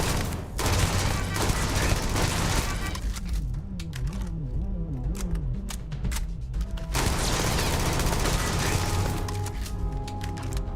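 Bursts of sci-fi gunfire from the Starfield video game rattle in rapid volleys, dropping off briefly mid-way before resuming loudly amid game effects.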